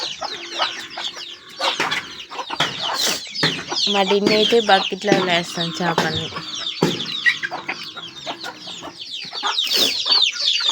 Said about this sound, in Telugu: ఇక్కడ మా పక్కన కోళ్ళు బియ్యం తింటున్నాయి అవి ఎట్లా అరుస్తున్నాయా